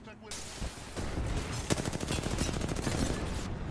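Dense gunfire from an Apex Legends match during a pro tournament, with rapid automatic bursts and sharp shots crowding together for several seconds, loud and continuous after a brief quieter opening.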